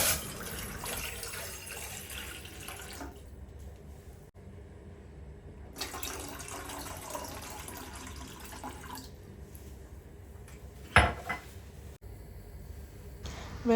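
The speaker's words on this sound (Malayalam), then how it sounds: "അതിലോട്ട് 2 ഗ്ലാസ് വെള്ളം നമ്മൾ ഒഴിക്കുക." Two glasses of water poured into a pan on a lit stove make a steady, close rushing splash for a few seconds. It pauses, resumes, and ends with a brief clatter near the end.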